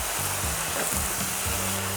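Korean eggplant tossed in seasoning sauce sizzling loudly and steadily in a hot pan, a dense continuous hiss with faint stirring scrapes and no talk.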